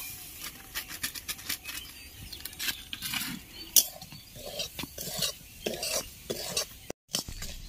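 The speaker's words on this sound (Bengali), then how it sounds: "তা হালকা আঁচে আমি সুজিটাকে ভেজে নিব।" Semolina frying in oil over low heat, stirred with a utensil, giving irregular scraping and soft gritty rustles close up with a faint sizzle underneath and a brief drop to silence near the end.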